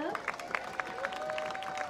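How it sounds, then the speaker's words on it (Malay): Thunderous clapping and cheering from a crowd at a political rally, dense and sustained, with a loud voice carrying over it. "Tepukan gemuruh untuk anak-anak muda"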